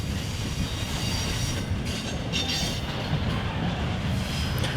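A CSX freight train rolls past close by with a CP engine in tow, a continuous loud rumble of wagons with rattling wheels and faint squeals throughout.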